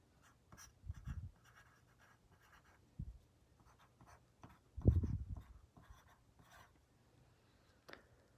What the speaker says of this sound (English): let's write our name on the paper first